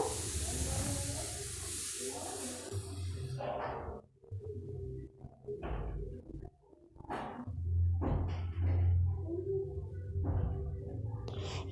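Two onions frying in oil until reddish-brown for a pulao, a steady hiss and sizzle with bursts of spatter and occasional thuds of stirring, close and moderately loud with some breaks in the crackle.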